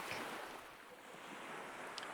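Ocean waves wash and surge in a continuous broadband roar with wind noise, a steady seascape sound effect for a children's pirate story.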